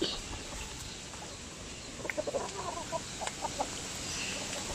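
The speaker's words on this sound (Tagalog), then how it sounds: "Ayan, daming manok." Short clucking calls from many chickens on a small rural farm in the Philippines rise over a steady outdoor background hum, scattered and moderately close, with no talking.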